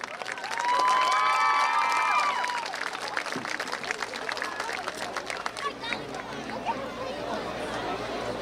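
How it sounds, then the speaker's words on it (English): A football stadium crowd at a varsity homecoming game applauds and cheers for the homecoming candidates and their escorts, with whistles and shouts over a broad roar of chatter and clapping. "let's give a big round of applause for all of our candidates and their escorts"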